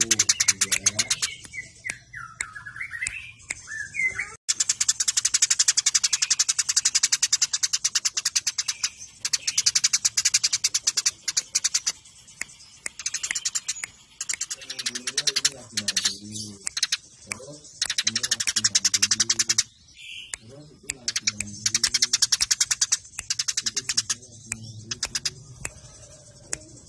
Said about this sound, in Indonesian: Ini tuh burung ada berapa?